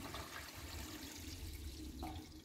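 Water from a Lorenzetti faucet runs into a kitchen sink with a steady, fairly soft splashing hiss, and the flow shifts slightly near the end.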